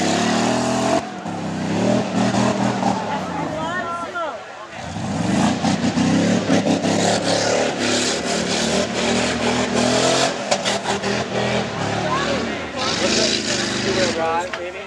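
Engine of a stock-class tuff truck at a fairground event roaring and revving loudly and continuously, with brief dips, while spectators talk over it nearby.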